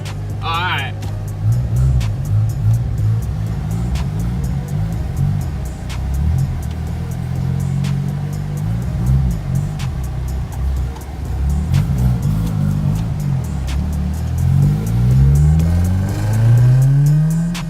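A Nissan D21 mini truck with a freshly fitted exhaust and exhaust manifold revs and pulls away, its engine note rising and falling repeatedly across the stretch, loud and close, with people talking over it.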